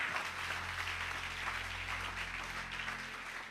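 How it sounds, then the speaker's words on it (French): A church congregation clapping and applauding in praise of God, a dense steady wash of applause heard from a distance that holds evenly for several seconds. "Acclamez Dieu que je termine."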